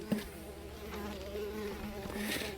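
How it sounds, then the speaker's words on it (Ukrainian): Mosquitoes buzz in thin, wavering whines that drift close and away, faint and alone against quiet background noise. "Комары!"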